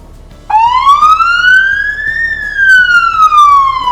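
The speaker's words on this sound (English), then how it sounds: "to turn the lights and sirens on, you're just going to press the red alert button" A loud electronic siren wail starts abruptly and sweeps slowly up then down in one long continuous tone, close by and dominating the scene.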